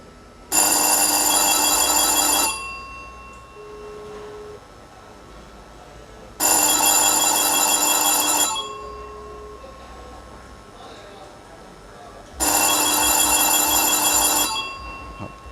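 Three loud bursts of a telephone bell ringing through a Ringmax R ringer box, each lasting about two seconds with roughly four-second gaps, close and clear, with faint background noise between rings.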